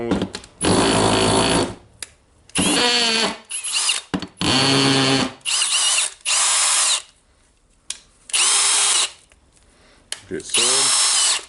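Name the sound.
cordless drill running in hammer mode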